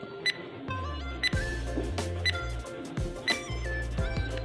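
A quiz countdown timer effect: repeated electronic ticks and chiming tones in a steady rhythm, with bright clicking accents roughly every second, loud and alone without talk.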